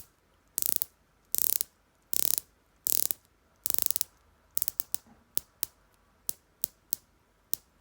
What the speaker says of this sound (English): it's just such a nice bezel action.